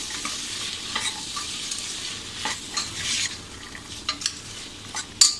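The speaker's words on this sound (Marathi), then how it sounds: "बघा आता हे आपण वाटाणे थोडेसे परतून घेऊया." Green peas sautéing in a hot pan, a steady sizzle under repeated scraping and stirring strokes of a spoon against the metal, close and continuous with a sharper clink near the end.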